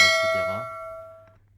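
A single bright bell ding rings out and fades away over about a second.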